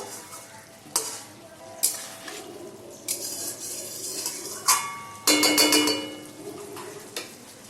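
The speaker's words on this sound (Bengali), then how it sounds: "সামান্য একটু নেড়ে দেখুন তরকারিটা এরকম মাখা মাখা হয়ে গেছে পুরো।" A spoon scrapes and clinks against a pan while papaya and potato curry cooked in ghee is stirred, in irregular strokes about once a second over a soft sizzle.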